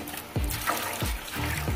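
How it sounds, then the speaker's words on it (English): Water trickles and splashes steadily into a pot of soup mix for Jamaican steamed fish, with a few soft low thumps over the continuous pour. "Add a little bit more water."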